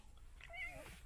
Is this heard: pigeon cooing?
no